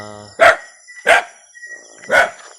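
An American Bully dog barks three times, loud and close, with pauses of roughly a second between the deep barks.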